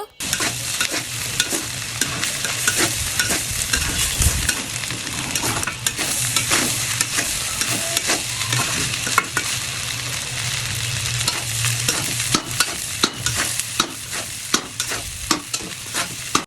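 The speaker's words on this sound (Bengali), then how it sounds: "বড় কড়াইতে রাইস রান্না করেন আর এরকম ভাবে রান্না করেন, মানে জোরে জোরে বাড়ি দিয়ে আপনার রাইসগুলো উল্টাতে হবে" Rice being stirred and banged hard in a big wok while frying, with rapid scraping, clattering metal knocks and steady sizzle throughout, close and loud with no talk.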